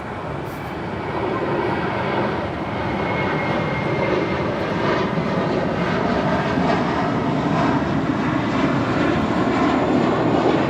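A JetBlue Airbus A321 departs from Los Angeles International Airport with a loud, broad, continuous jet engine roar that stays strong and steady throughout.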